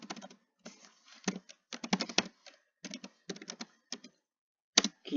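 Bursts of typing on a computer keyboard during an ethical-hacking demonstration, quick irregular keystroke clusters separated by brief pauses, close and fairly quiet with no talking.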